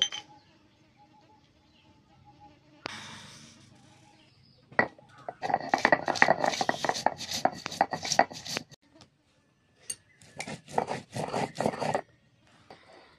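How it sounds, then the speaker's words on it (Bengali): Black cumin, garlic and green chilli being ground into a paste on a grinding stone, giving rhythmic rubbing and scraping strokes in two runs, with quiet gaps and a few soft knocks. "ওর মধ্যে আমি কালো জিরে, রসুন আর কাঁচা লঙ্কা একসাথে বেটে নেব।"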